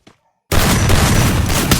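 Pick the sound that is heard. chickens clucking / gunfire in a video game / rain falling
gunfire in a video game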